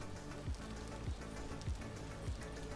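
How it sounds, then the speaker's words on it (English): Steady rain falls in the video game Vintage Story, a dense continuous patter with soft low thumps recurring about every half second. "Rain will also change if you're under trees, most notable in a forest."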